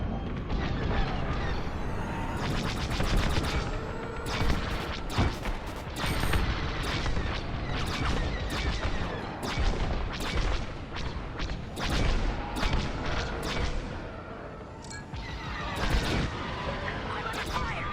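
Rapid laser cannon fire in a Star Wars: Squadrons space battle, dense repeated bursts of sharp shots with booms and mechanical whirs, running throughout over occasional talk.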